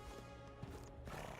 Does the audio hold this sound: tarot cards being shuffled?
no